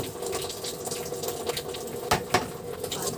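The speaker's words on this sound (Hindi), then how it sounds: "मशीन में पानी भरता है तब तक और काम हो रहा है" Water runs steadily through a pipe into a washing machine as it fills, a continuous hiss and gush with two brief louder splashes near the end.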